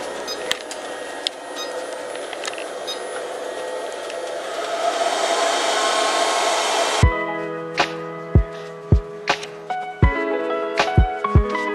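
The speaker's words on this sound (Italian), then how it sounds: "faccio anche partire il robottino aspirapolvere" A robot vacuum cleaner runs during a home cleaning session. A steady, broad whirring hum holds for several seconds, then cuts out, leaving a series of scattered sharp knocks and light clatter nearby.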